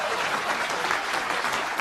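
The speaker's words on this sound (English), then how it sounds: "Please clap." A dense, steady wash of audience applause, many hands clapping at once with no pause or voices over it.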